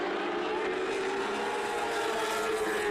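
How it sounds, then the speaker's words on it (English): TQ Midget race cars at Sunset Speedway in a 2020 OSCAAR event roar past as a continuous, loud engine drone with a steady high whine, and no pauses across the stretch. "I love the sound of the TQ Midgets. Like, it's piercing loud, but you can just hear these engines"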